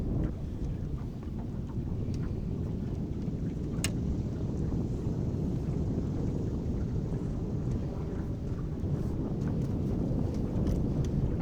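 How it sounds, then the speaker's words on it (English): Steady low rumble of wind buffeting the microphone outdoors on a fishing boat, with a continuous churning wash of wakes from other boats lapping around the hull. "Getting a little wind and waves from other boats"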